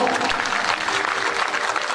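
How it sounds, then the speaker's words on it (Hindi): Devotees applauding during a Shrimad Bhagwat Katha religious discourse, a dense continuous patter of many hands that stays even throughout, fairly loud and close with no voice on top. "एक बार जोरदार तालियां"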